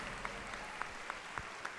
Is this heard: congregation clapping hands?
yes